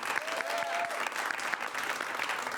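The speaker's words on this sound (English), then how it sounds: "clap for all of the movies, but clap loudest for the movies that you would like to see continue" Audience at an improv comedy show claps in a steady, dense burst of applause for a few seconds, filling the room evenly with no talk over it.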